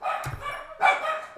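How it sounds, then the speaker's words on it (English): Dogs barking indoors during a live online chat, two sharp close barks separated by a short gap, with a low thump between them. "I'm so sorry about the dogs."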